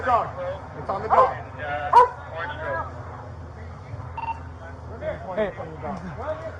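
A police dog barks and yips in sharp bursts during a tense armed standoff, mixed with urgent shouted voices and radio-like chatter.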